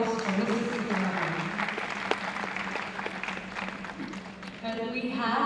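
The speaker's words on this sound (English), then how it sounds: "again, a big round of applause for Mr. Sitharam" Audience at a management education convention inauguration applauds with sustained, moderately loud clapping that continues evenly throughout, with a voice speaking faintly over part of it.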